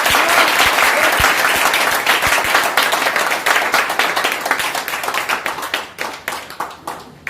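A crowd applauds loudly at a marketing gathering, dense clapping at first that thins into scattered individual claps toward the end.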